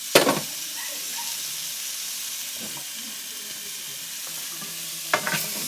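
Chilli paneer sizzles and fries steadily in a hot pan, a loud continuous crackling hiss with occasional stirring scrapes at the start and end.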